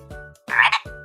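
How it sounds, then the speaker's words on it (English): A frog croaking once, a short loud raspy croak in the middle, set between soft repeating musical tones. "It's a frog."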